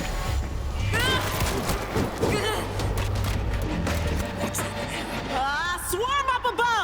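Zombie-shooter gunfire in World War Z, a rapid crackle of shots clustered through the first seconds, mixed with game noise and shouting voices near the end.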